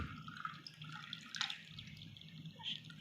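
Juice poured from glasses into a pot of water while making a drink, giving soft, continuous liquid trickling and splashing with a few brighter drips, quiet and close without speech.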